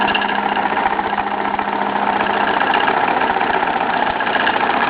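A Bowman M122 model steam engine in steam runs with a steady, continuous mechanical hum and rapid rhythmic chuffing, close and fairly loud, with no talk over it.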